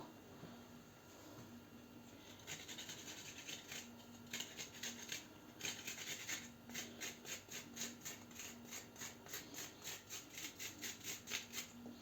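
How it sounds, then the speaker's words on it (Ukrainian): A garlic clove is rubbed over a layer of food, giving a quiet rhythmic scraping and swishing that grows into a steady repeated back-and-forth rasp, close and faint. "Беремо по зубчикове часнику, натираємо."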